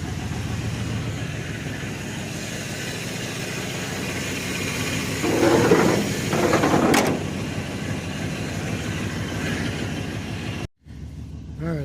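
A 1992 Chevy 4x4 pickup engine idles roughly and steadily up close, swelling briefly in revs midway before settling back, with a short cut near the end.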